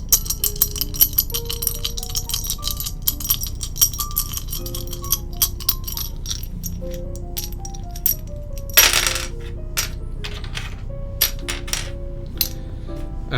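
A handful of plastic keycaps from a custom mechanical keyboard build clack and clink together in a hand, bright metallic-sounding chinks in quick irregular clusters, close and fairly loud, with one sharper rattle near the middle.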